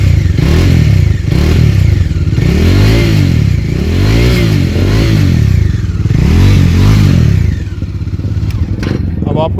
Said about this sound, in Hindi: तो डोमिनर 400 की जो साउंड है कुछ ऐसी है।